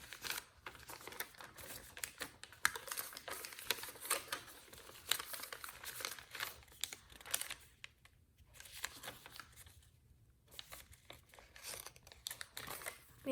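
Paper folded by hand into an origami F-35 Lightning II jet: near, continuous crinkling and rustling with scattered sharper creases, briefly quieter at moments, no voices.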